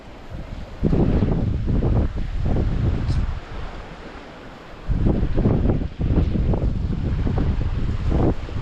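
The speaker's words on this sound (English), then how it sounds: "The wind is awful." Strong gusty wind buffets the microphone outdoors by a river while fly fishing for brown trout in Colorado, loud rumbling bursts that come and go in waves.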